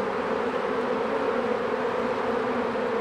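A honeybee swarm returning to a mini-plus hive after leaving with a virgin queen drones in a dense, continuous buzz, loud and steady with no voices.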